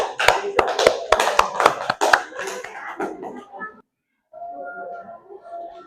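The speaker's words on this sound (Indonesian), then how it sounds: "Tepuk tangan untuk kelompok 4, anak-anak." Classroom students clap for a presenting group, a burst of loud sharp claps for about two seconds that fades out, followed by a pause and then a voice speaking.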